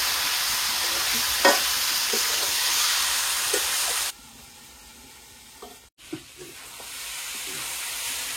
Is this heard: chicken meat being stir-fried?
yes